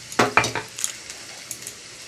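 Mustard seeds and radhuni hit a hot pan with a couple of sharp crackling pops, followed by faint scattered sizzles and light utensil clinks.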